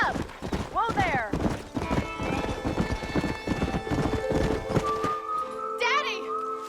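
Horse hooves gallop and clip-clop steadily in the Western video game Red Dead Redemption, with a horse's whinny and character voices over the hoofbeats.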